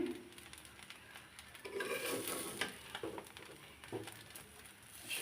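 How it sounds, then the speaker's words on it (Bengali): Broken rice (khuder bhaat) is stirred in a cooking pot, with soft scraping and a low sizzle beneath quiet, intermittent utensil strokes, close and faint. "কন্টিনিউ নাড়াচাড়া করে নিতে হবে তলাতে যেন না লাগে"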